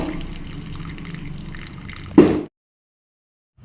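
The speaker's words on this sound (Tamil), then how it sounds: "இப்போ எக்ஸ்ட்ரா இருக்கிற தண்ணி இப்போ வடிகட்டிக்கலாங்க" Water pours and trickles steadily as excess water is drained off cooked greens (keerai), ending in a brief louder splash before cutting to silence.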